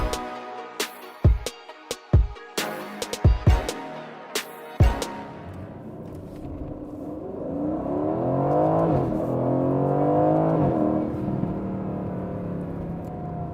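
A 2019 Aston Martin Vantage with a 4.0-litre twin-turbo V8 accelerates hard, its engine note climbing through several gear changes, loud and close after a few sharp clicks and thumps at the start.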